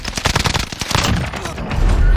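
Rapid, loud bursts of video-game gunfire crackle in close, overlapping volleys without pause, like automatic weapons in a firefight.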